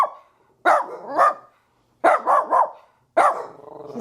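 A senior dog barks close by in three bursts of sharp, throaty barks with pauses between them. No voices are heard.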